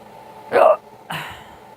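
Two close hiccups from a person, each a short sharp vocal burst about half a second apart, over a faint steady room hum.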